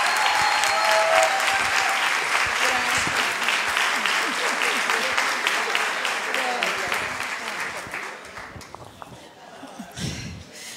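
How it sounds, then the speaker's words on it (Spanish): Audience at a business opportunity meeting applauds to welcome platinum members: loud, dense clapping from a sizable crowd that gradually thins and fades toward the end, leaving scattered claps and murmuring voices. "Un fuerte aplauso para recibir a los platinos también."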